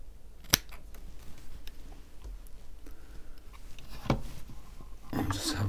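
Scissors cutting a Japanese organic Muji cotton pad to size for wicking a vape atomizer: a few sharp, close snips, soft handling noise between them and faint whispered-level talk.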